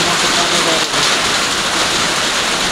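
Big-dropped heavy rain in a windstorm in Kailali, Nepal, rushes as a loud, steady wash of noise close by, with no break.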